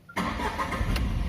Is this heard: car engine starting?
yes